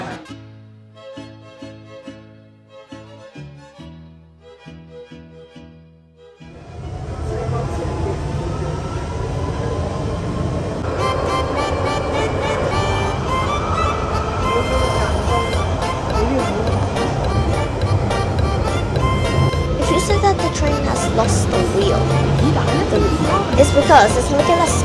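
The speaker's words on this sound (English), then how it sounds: "And right now, we're departing from the train station." A train pulls out of a station, going from quiet to a loud, steady rumble with a drawn-out metallic screech layered on top. Voices are faintly audible along the way.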